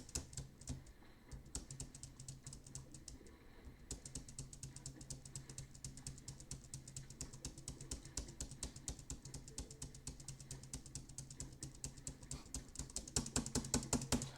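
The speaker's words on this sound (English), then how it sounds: "that fucking keyboard sound is probably like incredibly annoying" Close computer keyboard typing during a game stream, rapid continuous key clicks and clacks in an even, busy rhythm with brief pauses and a louder flurry toward the end.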